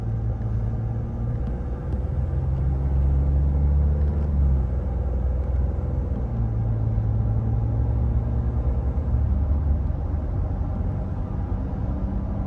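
A Ford F-150 with the 2.7 engine and a K&N intake gives a steady low rumble from inside the cab as it accelerates gently in stop-and-go traffic, continuous and fairly loud with no talking.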